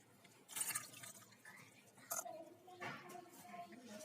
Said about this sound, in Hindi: 2 कप पानी डाल देंगे